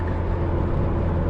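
Continuous low, steady drone of a Toyota MR2 AW11 engine with a five-speed manual, heard from inside the cabin while driving, loud and even with a strong low hum and no talk over it.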